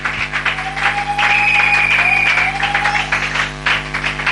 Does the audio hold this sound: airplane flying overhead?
no